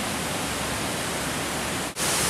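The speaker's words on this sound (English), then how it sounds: "And the wonderful waterfall, Ben Glas Falls." Ben Glas Falls waterfall in Scotland, a loud, steady roar of falling water close by that briefly cuts out near the end.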